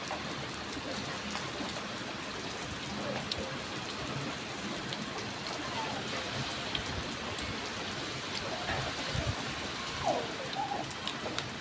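Steady rain falls continuously, a dense even hiss of drops on surfaces with occasional nearer splashes, heard alone at moderate level with no voices.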